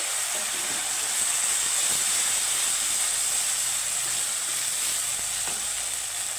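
Masala paste sizzles in a hot pan after a splash of water goes in, a steady loud hiss holding evenly throughout with no breaks and no voices.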